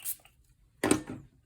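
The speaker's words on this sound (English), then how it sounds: "I'm going to spray just a little water on here." Two quick, soft hisses of a spray bottle misting water onto a watercolor painting, close by, separated by a short pause in a quiet room.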